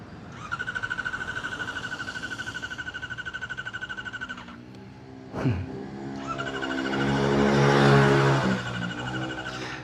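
A Kawasaki ZX-4RR motorcycle engine ticks over in a steady pulsing idle, goes briefly quiet with a thump, then starts again and swells into a louder, rising rev.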